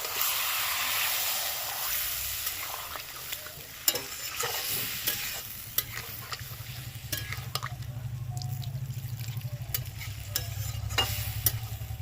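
Spiced tomatoes bubble and sizzle in a pan after a little water is added, with a continuous frying hiss and repeated scraping taps of a stirring spoon.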